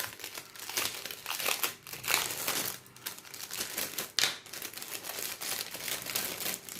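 Plastic packaging of a diamond painting toolkit being opened up close, a steady stream of crinkling and crackling with a few sharper snaps and tearing rustles, no talking.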